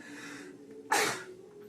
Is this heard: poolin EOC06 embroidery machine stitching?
no